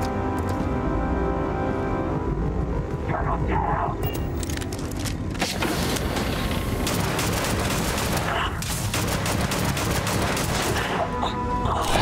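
Pistol gunfire in the space game Starfield, rapid sharp shots in bursts amid heavy combat noise and booms, loud and close, with voices talking over parts of it.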